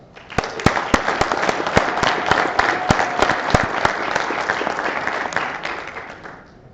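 Loud, sustained applause from an assembled military audience at an Air Force unit promotion ceremony, with dense clapping and distinct sharp claps standing out, fading out near the end.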